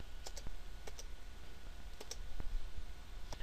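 Light computer keyboard keystrokes in Word, including presses of the enter key, come as a few sharp, close clicks spaced irregularly over a quiet background.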